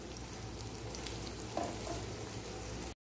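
A garlic and turnip paratha cooks with oil in a pan, sizzling steadily and closely with light crackles until it cuts off abruptly.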